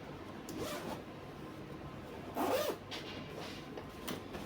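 Zipper on a sewn Ankara girl's casual top pulled in a few short quick zips, one louder stroke standing out, close and quiet with no talk.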